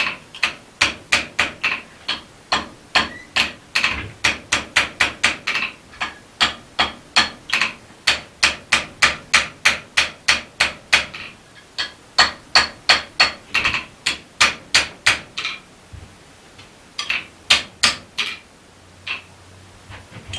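A hammer forges a cusp latch body on an anvil, striking in quick, sharp, ringing blows. The strikes fall in steady bursts with short pauses between runs, close and clear with no talk.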